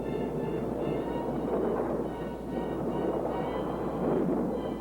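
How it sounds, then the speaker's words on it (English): Stormy weather at sea brings a steady, rumbling roar of thunder and wind, broad and continuous with slow swells in loudness and no clear individual cracks. "Maybe we can circle the storm."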